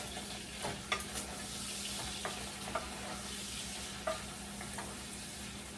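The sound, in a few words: bacon frying in a little soup pot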